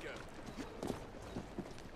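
Horse hooves clip-clop at a trot in Assassin's Creed Syndicate, a steady rhythm of close, fairly loud footfalls over a busy street ambience with light talk in the background.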